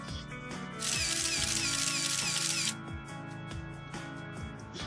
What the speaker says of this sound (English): I click the shutter, entranced.